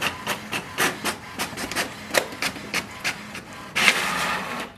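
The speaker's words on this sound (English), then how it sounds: "press the information button once and release it. It will send a command for the printer to print printer information." An HP Smart Tank 7300 inkjet printer prints an information page: rhythmic mechanical clacks and whirring passes repeat at a steady pace, close and clear, ending in a louder feed sound.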